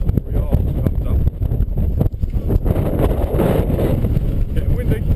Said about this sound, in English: Getting windy.